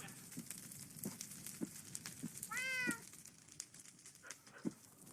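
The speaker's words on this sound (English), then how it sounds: "when did they add house cats into the game?" A house cat meows once in a Minecraft game world, a brief clear rising-and-falling call over faint game ambience and scattered soft clicks.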